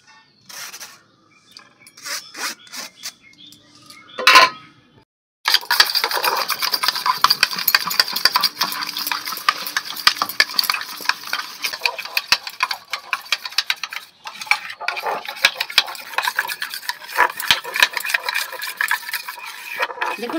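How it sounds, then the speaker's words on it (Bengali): Sour yogurt whisked in a bowl for sweet curd, a rapid continuous ticking and scraping rhythm that runs loud and steady after a few brief taps. "টক দইটা আমি ভালো করে ফেটিয়ে নেব।"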